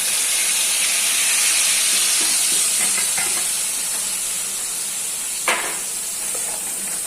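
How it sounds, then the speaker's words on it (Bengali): Poppy seed and green chili paste frying in a wok that was just used to fry pointed gourd, giving a steady loud hiss and sizzle throughout, with one brief sharp clink near the end. "ওই কড়াইয়ের মধ্যে এবার আমি দিয়ে দিলাম পোস্ত আর লঙ্কার পেস্টটা"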